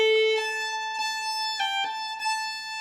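A fiddle plays a short opening phrase starting on a down bow, clear sustained bowed notes stepping through a simple melody, close and alone.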